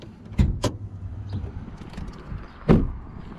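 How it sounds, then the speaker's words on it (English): Hood release of a 2018 Subaru Crosstrek: a couple of sharp mechanical clunks and a thump close by, with faint rustling between them and a final louder knock. "we're gonna pop the hood"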